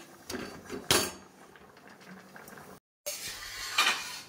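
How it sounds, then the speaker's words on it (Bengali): A metal wok is set onto a kitchen stove for cooking dal. It makes a couple of sharp, close metallic clanks and scrapes against quieter kitchen background noise. "কড়াই বসিয়ে দিলাম"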